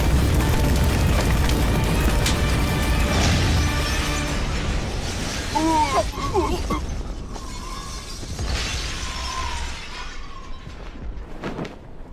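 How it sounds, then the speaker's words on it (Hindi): A dense, roaring blast in an action film fills the opening seconds with broadband rumble and crackle, then trails into debris and scattered mechanical clatter with a few tonal squeals, staying loud throughout and fading slightly toward the end. "क्या धमाका था"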